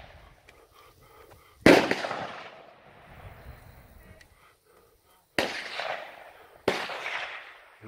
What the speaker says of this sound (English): This is the pistol range here.